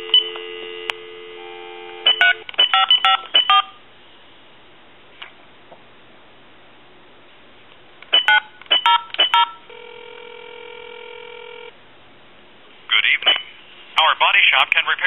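A telephone dials a number in several quick clusters of touch-tone beeps, broken up by steady tones and a ringing signal, all sounding thin and close as if heard over the line.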